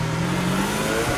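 A Lamborghini Veneno's 6.5-liter naturally aspirated V12 in Forza Horizon 5 roars loud and close in a brief, steady high-rev burst, alone without voices.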